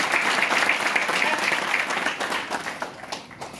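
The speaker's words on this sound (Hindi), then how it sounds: "एक बार जोरदार तालियां।" Loud, dense applause from an audience at a Hindi-language business seminar on direct selling, steady and sustained before gradually thinning toward the end.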